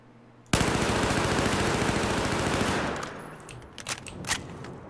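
An ACWR rifle with a red laser sight is hip-fired in Battlefield 4 as one sustained, loud, rapid automatic burst lasting over two seconds, ending in scattered clicks and softer sounds.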